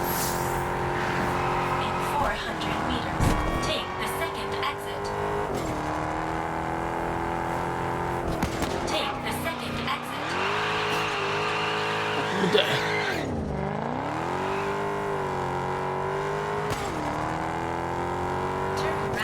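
A fast racing car in the game Test Drive Unlimited Solar Crown roars continuously, engine pitch climbing and dropping with gear shifts and tire squeal, while someone talks over it.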